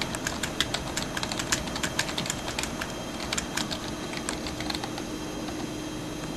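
Steady, fast typing on a computer keyboard while entering live caption text for a caption encoder, a dense run of crisp key clicks over a constant background hum.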